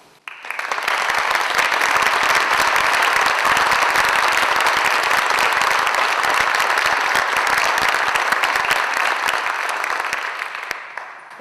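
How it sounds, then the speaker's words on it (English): Sustained applause from a large audience honoring inductees at the 2010 Parsons College Wall of Honor ceremony, swelling in quickly, holding steady and dense for about ten seconds, then tapering off at the end. "let's recognize them with a warm round of applause"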